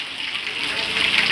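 Rainwater floods through a village lane, a loud continuous rushing wash of water that swells slightly toward the end.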